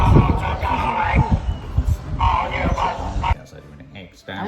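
A dog barks in a few sharp yips and woofs, fairly close and loud, tangled with overlapping talk from several people.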